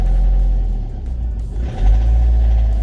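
A Vauxhall 1.7 CDTi diesel idles roughly and unevenly, its low engine drone sagging and nearly dying before catching again, loud and close with no talk over it.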